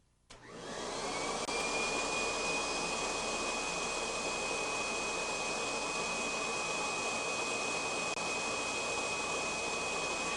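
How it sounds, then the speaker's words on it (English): A Kirby G4 vacuum cleaner blows air through its inflator-deflator tool, spinning up within the first second into a steady, loud, high-pitched whine and rush of air that holds constant throughout, with no talking. "By attaching the inflator-deflator tool to the attachment hose, you can inflate toys, air mattresses, or other similar low-pressure inflatable items."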